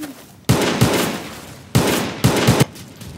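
Video game gunfire crackles in three sharp bursts of rapid shots, the first and last with a doubled stutter, each followed by a ringing decay, loud and close with no talking.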